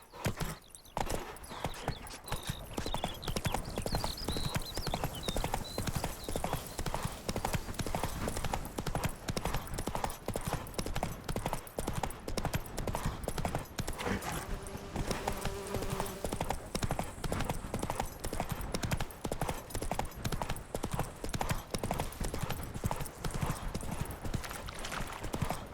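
Horse hooves galloping in The Witcher 3: Wild Hunt, a fast continuous clip-clop rhythm that stays loud and close throughout, with occasional faint whinnies and a rider's brief shouts.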